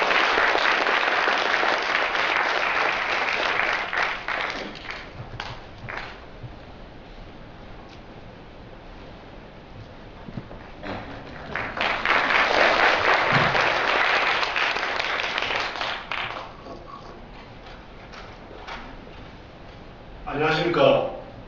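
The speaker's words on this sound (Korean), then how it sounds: "모두 큰 박수로 맞아주시기 바랍니다." A student forum's general assembly audience gives big applause to welcome a speaker, two loud bursts of clapping separated by a quieter stretch, with talking in between.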